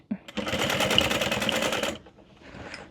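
Sewing machine stitching through backpack material, a steady, close mechanical whir lasting about a second and a half before stopping, with faint room sound afterward.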